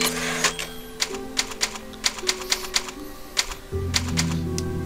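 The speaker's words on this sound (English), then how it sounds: "Typewriter right at the right spot." Typewriter at a save point in the Resident Evil 4 video game clacks out a run of sharp, evenly spaced keystrokes over a soft background tone, ending with a lower musical chime.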